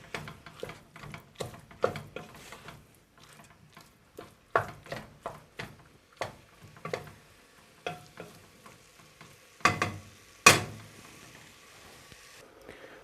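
Beef cubes browning in a pan for Chinese beef and carrots, heard as sparse, close crackles and pops in irregular bursts against near silence, with occasional louder spits.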